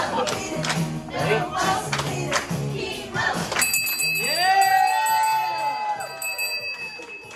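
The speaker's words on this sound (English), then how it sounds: "He's ringing the bell." In a hospital, a cancer patient rings the treatment bell, one bright clang that rings on and slowly fades after a burst of voices and clapping from a small crowd.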